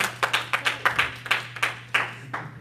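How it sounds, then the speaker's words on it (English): A church congregation claps at a Youth Sunday service in a steady, even rhythm of sharp hand claps, close and fairly loud, with no talking over it. "Y'all can be clapping a lot."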